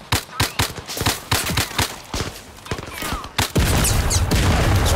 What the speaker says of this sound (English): Oh, airstrikes!